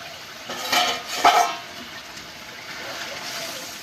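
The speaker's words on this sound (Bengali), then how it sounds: "জল দেওয়ার পর আমি কিছুক্ষণের জন্য ঢেকে দিচ্ছি।" A cooking pot of jackfruit and fish curry, just topped up with water, being covered: two quick metallic clinks of a lid settling on the pot, close and fairly loud, followed by a low steady background.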